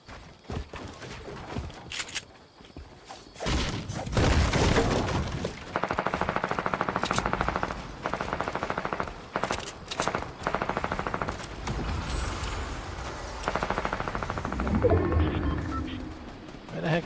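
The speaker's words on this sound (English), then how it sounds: "Where the heck is the gunfire?" Video game gunfire plays out in bursts of automatic fire and scattered shots, loud and close, sometimes rapid and sometimes in pauses across a busy stretch with movement and background noise.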